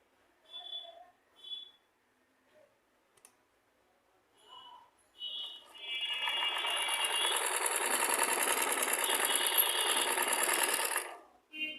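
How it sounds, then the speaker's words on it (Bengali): A sewing machine running a test stitch after its bobbin tension was fixed, a steady whirring run lasting about five seconds, preceded by a few short voiced sounds and clicks. "এখন আমি আপনাদের আবারও সেলাই করে দেখাবো যে মেশিনের সমস্যাটা সমাধান হয়েছে কিনা"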